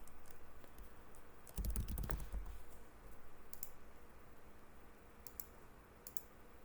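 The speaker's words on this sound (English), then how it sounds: "And then I will type my password." Password typed on a computer keyboard, a quick burst of close clicking keystrokes in the middle followed by a few isolated key taps, quiet room with no talking.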